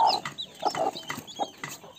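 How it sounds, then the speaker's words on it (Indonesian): Young broiler and village chicken crossbreed chicks cluck in a quick series of short, close, fairly soft calls. "ambil anak ayam silangan kampung dan ayam broiler"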